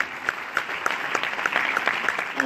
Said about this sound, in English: Can we give a big round of applause to the leaders